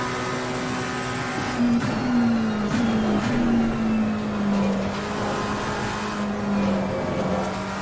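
Race car engine in the sim racing game Assetto Corsa Competizione, lapping the Nürburgring GP circuit: a loud, steady drone with a gliding pitch that rises and falls through gear changes, running alone with no talk.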